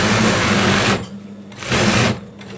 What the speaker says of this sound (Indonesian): ini bagian kepalanya sudah kita jahit ya, modelnya seperti ini di zigzag